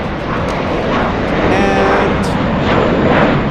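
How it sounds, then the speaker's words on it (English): Airplane taking off on runway 25 Left at Los Angeles International Airport, seen close up, a loud continuous roar that holds steady throughout, with a brief spoken word over the engine noise. "this is going to be a close-up takeoff on runway 25 left"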